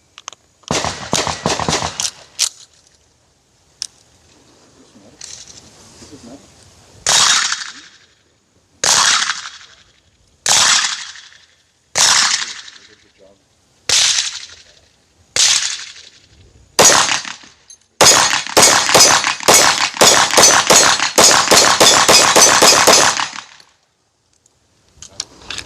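A KDS9C pistol with updated grips fires close and loud, first as a rapid string of shots, then as slower single shots with pauses, and finally as a fast burst of rapid fire.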